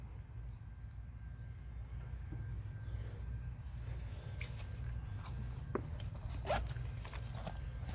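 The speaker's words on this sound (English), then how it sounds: "This little zipper pouch." A zipper pouch on a Source Aquasource 25L water tanker hydration carrier gives a couple of short zip bursts amid soft rustling and handling noise. The sounds are quiet and close, over a low background hum.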